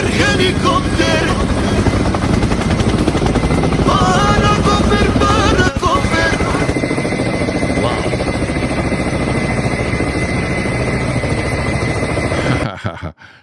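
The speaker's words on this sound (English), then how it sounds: "Helicopter, helicopter." A helicopter flying overhead in the Rocky Mountains, its loud continuous rotor and engine roar dominating throughout before cutting off abruptly near the end.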